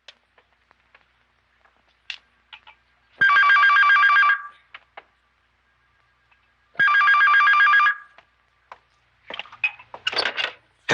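Two bursts of an old landline telephone bell ringing loudly, each about a second long and separated by a pause, in a Filipino film scene, with a few faint knocks and a brief clatter afterward.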